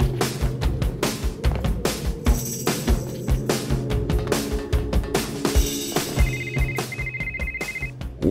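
A phone rings in the Rocketbirds 2 video game, a repeating electronic ringtone pulsing steadily over busy game music and effects.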